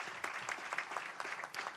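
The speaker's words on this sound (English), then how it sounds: "So clap hands for yourselves, girls." Audience clapping at a women and girls in science and ICT commemoration event, a short burst of applause with irregular hand claps, moderately faint and sustained for under two seconds.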